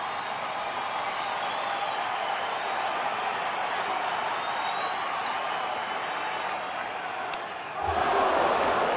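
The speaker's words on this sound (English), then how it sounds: "And boy, this crowd really into it." A baseball stadium crowd at a Dodgers vs Angels game keeps up a loud, steady roar of cheering, rising slightly near the end.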